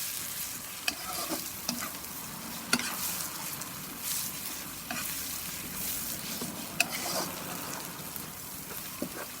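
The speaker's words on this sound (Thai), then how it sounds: "ผัดพริกแกงนะคะ" Burmese-style curry paste for a pork curry being stir-fried in a pan: a continuous soft sizzle broken by regular sharp scrapes and clacks of the spatula, heard up close with no talking.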